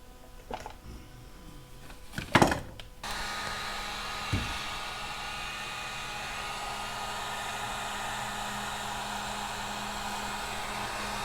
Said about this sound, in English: So the heat gun's heating up that solder, hopefully.